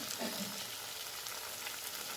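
Onion and a little carrot sizzle in a pan, producing a continuous, even, fairly quiet hiss with no speech.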